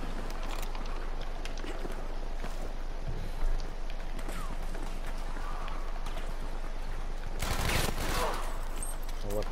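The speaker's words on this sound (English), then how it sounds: "And the Bren's amazing" A Bren light machine gun fires in the video game Battlefield V, with rapid bursts of gunfire mixed into continuous battle noise, footsteps and distant shots, and a louder, sharp burst toward the end.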